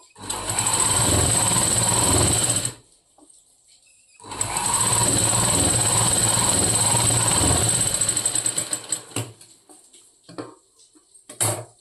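Sewing machine stitching blouse fabric, close and loud, with two long runs of fast, even mechanical whirring separated by a brief pause, then a few short stop-and-start bursts.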